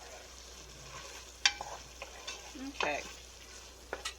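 Potatoes frying with bacon in a hot pan, a soft continuous sizzle with a few clanks of stirring and scraping, a voice briefly heard over it.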